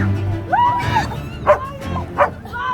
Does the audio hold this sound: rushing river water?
no